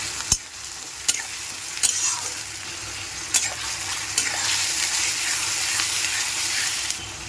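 Grated onion and chopped garlic fry in oil with a constant close sizzle, punctuated by several sharp clinks of a spoon stirring against the pan at irregular intervals.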